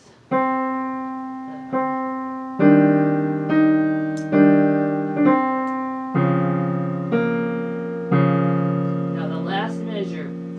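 A keyboard plays one measure of Khachaturian's Andantino, the left hand rocking back and forth in sustained eighth-note chords beneath a simple right-hand line, with eight or nine clear struck notes at a steady, moderate pace.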